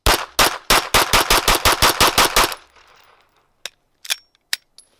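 A 2011 handgun with a compensator fires Tula ammo in a fast string of about twelve loud, sharp shots, followed by fainter distant shots and echoes after a pause.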